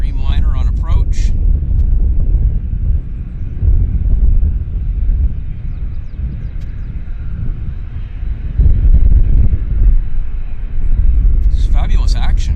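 Boeing 787 Dreamliner airliner on approach at Vancouver Airport, a steady low engine rumble with wind noise, distant and continuous, with brief voices at the start and end.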